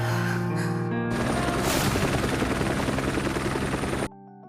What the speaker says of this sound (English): their efforts were interrupted by helicopters